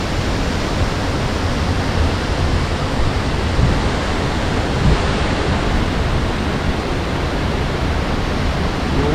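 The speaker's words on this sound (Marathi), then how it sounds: "एवढा मोठा धबधबा" Zunj waterfall near Amravati roars as a dense, unbroken rush of falling water, loud and steady throughout with no talk.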